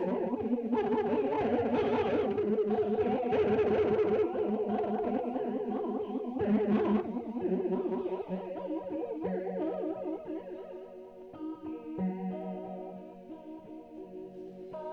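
An electric guitar plays through a Monoprice flanger pedal set to sound like a shimmering chorus, sustained chords fading into quieter, sparser notes.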